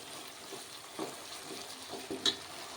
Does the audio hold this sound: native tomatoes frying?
yes